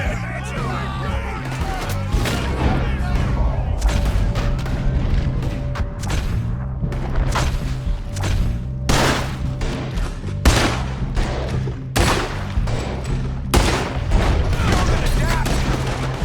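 Red Dead Redemption 2 shootout with loud, repeated gunshots and booming volleys cracking over a constant low rumble of game music, while characters shout over the fighting.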